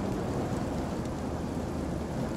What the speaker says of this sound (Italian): Piove, devo uscire?